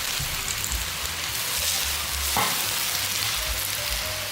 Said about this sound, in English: keep stir-frying to bring out the aroma of the noodles